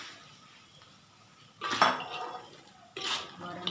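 A utensil stirs and scrapes fried baledang fish with a chili mixture in a metal pan, two bursts of clattering scraping after a quiet simmering stretch, close and moderately loud.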